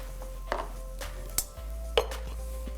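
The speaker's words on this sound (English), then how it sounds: "I'm going to slow down a bit and swap the pan." A cooking pan is set aside and swapped on a stovetop while a Tamil fish curry is made, giving a few soft, close metallic knocks and clatters spread over a few seconds against a steady low kitchen hum.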